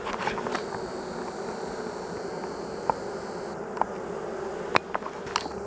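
Honey bees buzz around a weak colony in an open hive, a soft, steady close drone with a few sharp clicks and taps over it.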